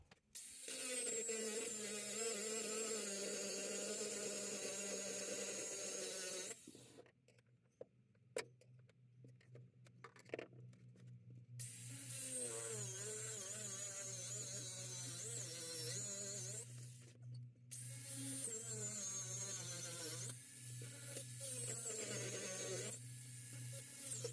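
Angle grinder cutting at a seized bolt on a coachbuilt campervan, the bolt fused solid by heat; loud sustained whine in long bursts with short pauses and clattering between them.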